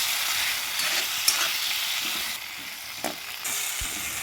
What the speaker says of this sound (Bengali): বেগুনগুলো দিয়ে এর উপর দিয়ে সামান্য লবণ দিয়ে বেগুনগুলো ভেজে নেবো ভালো করে